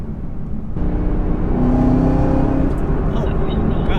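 A Chevrolet Camaro ZL1 1LE accelerates in traffic, its engine note swelling into a loud, sustained rising roar heard from inside the car, with someone talking over it.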